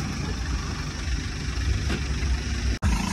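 A Mahindra tractor engine drones steadily as the tractor drives through deep water, a continuous mid-level idle-like hum with a brief sharp cut near the end.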